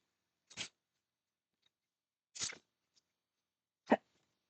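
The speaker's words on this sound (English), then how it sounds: "Oh, I'm gonna sneeze." Three short, sharp human sneezes separated by silence, close and fairly quiet.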